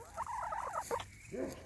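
Chickens in a homestead garden in spring make a short run of close, nasal clucks and bird calls lasting under two seconds, with no talk over them.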